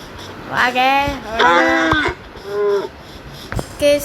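Blocky cows in the Minecraft video game moo several times in a row, drawn-out lowing calls that rise and fall, fairly loud and close, with short gaps between them.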